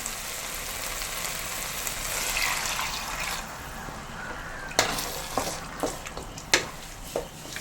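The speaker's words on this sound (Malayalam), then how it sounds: "ഇനി നമുക്ക് ഇത്തിരി വെള്ളം ഒഴിച്ചു കൊടുക്കാം" Water goes into a pan of sizzling, wilted onions for a jackfruit-seed curry with roasted ground coconut. A steady frying hiss softens, then a few sharp clinks and knocks follow close by.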